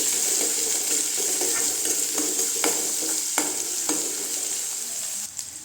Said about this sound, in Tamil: வெங்காயம் இந்த அளவுக்கு வதங்கினா போதுங்க